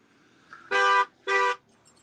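A car horn honks twice, two loud sustained blasts with a short gap between them, close by against a quiet background.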